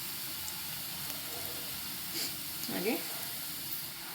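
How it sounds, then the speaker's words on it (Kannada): Onions fry in a pan with a soft, continuous sizzle and hiss, fairly faint, while a person speaks briefly over it. "ಇವಾಗೆಲ್ಲ ಇದು ಚೆನ್ನಾಗಿ ಈರುಳ್ಳಿ ಫ್ರೈ ಆಗಲಿ, ಸ್ವಲ್ಪ ಕೆಂಪು."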